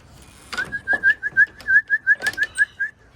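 A person on a roof whistles to racing pigeons with a steady string of about a dozen short, evenly spaced, piercing whistle notes, close and clear, with faint bird sounds and background noise.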